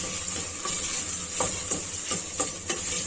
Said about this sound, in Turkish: salçaları kavuruyorum